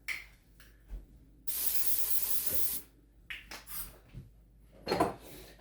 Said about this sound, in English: So we'll just spray a little bit of Pam on it.